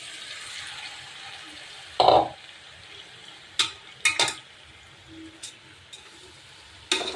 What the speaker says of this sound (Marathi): हा एक किलो जो राईस आहे तो मी ह्या चिकनमध्ये इमिजिएटली मिक्स करणार आहे.